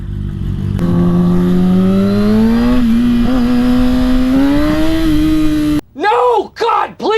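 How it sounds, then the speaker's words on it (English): A Jeep Trackhawk SUV engine revs close by in town traffic, a loud sustained drone that climbs steadily in pitch for about five seconds before cutting off, followed by a few brief vocal sounds. "Is this a Trackhawk?"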